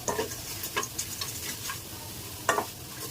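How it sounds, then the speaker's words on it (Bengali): Onion, garlic and coriander leaves dry-frying in a pan without oil, with a faint low sizzle under repeated clicking spatula scrapes and stirs in an irregular rhythm. "পেঁয়াজ রসুন ভাজা হয়ে গেছে, এখন ধনেপাতা দিয়ে দিলাম অল্প কিছু"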